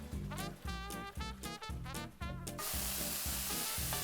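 Aubergines fry in oil in a pan for caponata, a soft broadband sizzle that fills the second half after a short stretch of rhythmic music; quiet overall.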